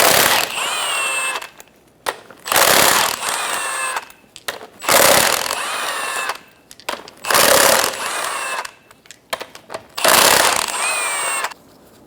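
A 19mm socket on a power tool spins off the five lug nuts from a 2003-2007 Honda Accord front wheel, five loud whirring bursts of a couple of seconds each separated by short pauses.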